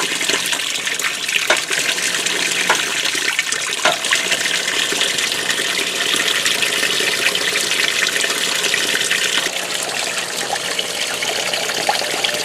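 Water rushes steadily into a washing machine filling for a warm rinse, a constant hissing flow with faint clicks and knocks, heard close and continuous throughout.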